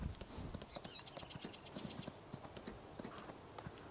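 Horse hooves clip-clop along a road in the video game Farming Simulator 19, a quiet, steady rhythmic clatter with a brief whinny early on.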